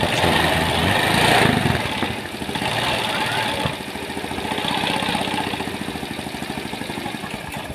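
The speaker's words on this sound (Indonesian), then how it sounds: "Dan alhamdulillah suara motor sudah sangat halus dan sudah normal" Yamaha Mio motorbike engine idling with its exhaust fitted, a steady close, even putter that shifts slightly in level throughout, with no talk over it.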